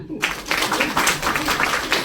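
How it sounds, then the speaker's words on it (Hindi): Clapping from a Brahma Kumaris gathering for a Lohri celebration, starting abruptly from silence and continuing as a steady, fairly close patter of many hands. "तालियां।"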